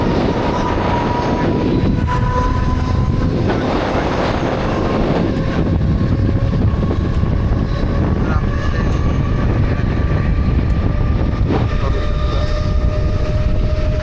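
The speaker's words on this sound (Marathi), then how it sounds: "तर पुढून आपल्या ट्रेनला क्रॉस करत आहे पनवेल ट्रेन" A Mumbai local train on the Govandi to CSMT route, heard from inside the carriage as a Panvel-bound train crosses alongside: loud continuous rumble and rattling wheels with rail squeal, steady throughout.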